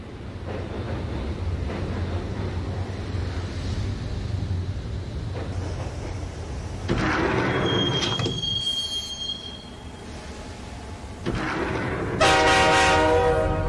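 Max Payne video game subway train riding: steady low rumble of wheels on rails, then loud squealing wheels and short blaring horn bursts near the end, with no talk.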